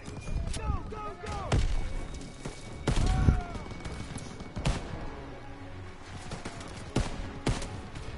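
Machine gun and rifle fire in a World War 2 video game battle, with repeated sharp bursts and single shots at close and middle distance, interleaved with shouted voices.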